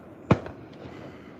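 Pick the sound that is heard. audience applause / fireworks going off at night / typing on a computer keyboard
fireworks going off at night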